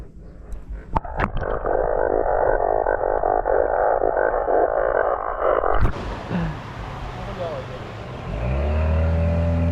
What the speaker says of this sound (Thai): ปลานี่ร้องสนั่นเลยนะครับ เดี๋ยวผม เดี๋ยวผมให้ฟังเสียงนะครับ